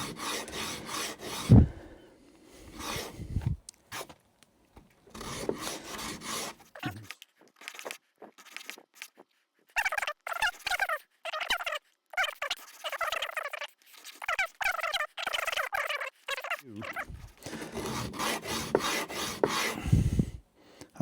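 Rasping strokes of sanding across old pallet wood, close and rhythmic, coming in steady bursts of back-and-forth rubbing separated by short pauses.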